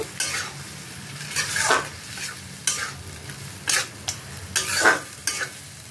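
Boiled potatoes are added to chana frying in a pan, then stirred in with irregular scraping strokes of a utensil over a low background sizzle, close by and without talk.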